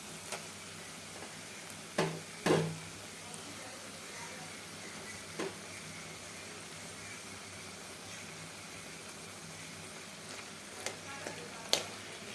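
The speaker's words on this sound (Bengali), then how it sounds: "মরিচটা ভাজা ভাজা হয়ে গিয়েছে, এখন আলুটা দিয়ে দিচ্ছি।" Green chilies and potatoes sizzle steadily in hot oil in a pan, a soft continuous frying hiss broken by a few sharp clicks and scrapes of stirring.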